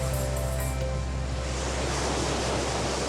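Ocean swell and waves pounding the Hawaiian shoreline in winter at Sunset Beach, Paumalu, a steady loud roar of surf and hissing wash with no voices.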